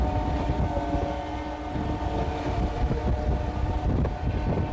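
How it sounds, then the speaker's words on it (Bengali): A local train running, heard from on board on a line toward Kharagpur: a steady rumbling roar with low rattling and wind noise, fairly loud and continuous, with occasional louder knocks and no talk. "উঠে পড়েছি লোকাল ট্রেনে।"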